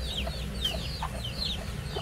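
Farmyard chickens being raised for eggs cluck and chirp in short repeated calls as they gather around feed, set against a steady low background hum.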